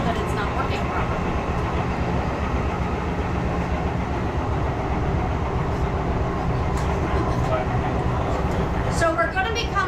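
Metro Expo Line light rail test train running outbound, a continuous rumbling ride with steady wheel and track noise and occasional squeals, with someone talking throughout.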